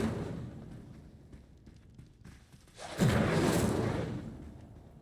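Incendio fire spell cast in Hogwarts Legacy, a quiet rumbling bed that bursts into a loud whooshing blast of flame partway through and then slowly fades.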